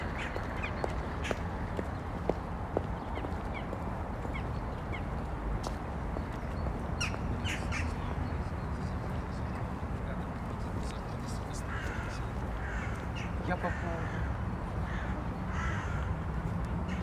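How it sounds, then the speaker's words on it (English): Ravens caw and seagulls call along a city avenue in St. Petersburg, Russia, as repeated harsh cries at moderate distance over a constant traffic rumble, with a voice heard at times. "I hear the seagulls and the ravens in the same time."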